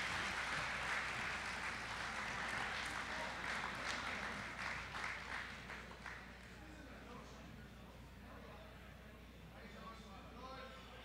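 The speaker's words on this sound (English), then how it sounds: "One more time, let's give all of our seniors a round of applause." An audience at a college athletics hall of fame and senior student-athlete ceremony applauds the seniors, dense clapping that stays steady, then thins and fades over a distant hall ambience with some voices underneath.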